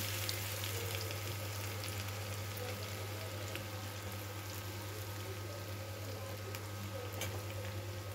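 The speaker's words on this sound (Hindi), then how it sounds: "इसको हम अच्छे से भून लेंगे।" Cumin, garlic and ginger fry in a pan as the base of a dum aloo gravy, giving a soft, continuous sizzle with faint crackles and a low steady hum underneath, quiet and uninterrupted.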